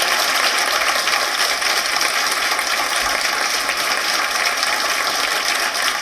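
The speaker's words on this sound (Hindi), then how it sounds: "एक बार जोरदार तालियां पूरे सदन से उठे।" Loud sustained applause from a large audience at a Republic Day poetry event in India, a dense continuous clatter of clapping with no break and no voices over it.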